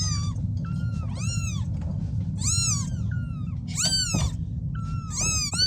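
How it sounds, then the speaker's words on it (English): Several high, drawn-out cat meows repeat every second or so, fairly close, over a steady low rumbling background. "Mama cat, meow."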